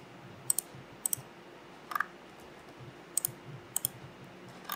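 Computer mouse clicks come in short paired bursts, roughly six sets spread unevenly over several seconds, crisp and close against a quiet room hiss while modeling in Blender.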